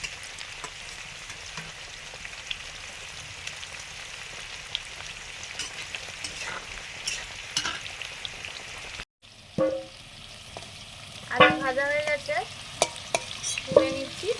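Malabar spinach stalks sizzle and fry steadily in a pan with occasional stirring scrapes; after a brief pause, sharper crackles and spatters rise.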